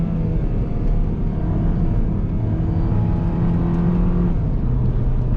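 A Mini Cooper engine drones steadily while the car is driven, a continuous low rumble with mild swells in revs, heard close and alone without talk.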